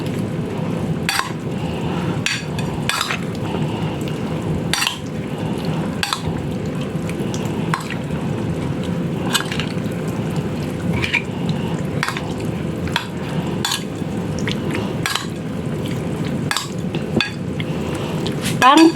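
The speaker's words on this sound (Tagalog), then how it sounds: "mix lang natin." A spoon stirs pork in a marinade of cornstarch and brown sugar, making steady repeated scraping strokes against the bowl in a regular rhythm over a continuous close background rumble.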